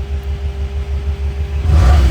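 Idling V8 of a 1965 Sunbeam Tiger fitted with a replacement 289 engine, a deep steady rumble close by that swells into a louder burst near the end.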